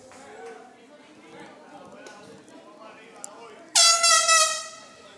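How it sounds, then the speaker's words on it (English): A sudden, very loud air horn blares for about a second and a half in a college baseball stadium, cutting through the murmur of the crowd and a commentator talking. "Oh, there's a man with an air horn out there."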